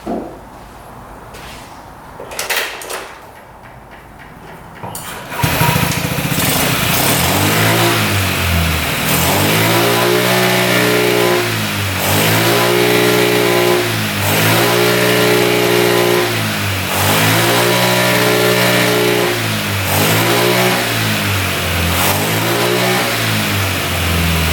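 A free scooter with an engine fault is revved over and over, its close, loud engine rising and falling in a steady cycle of about seven revs that never fully climb, after a few seconds of quieter shuffling.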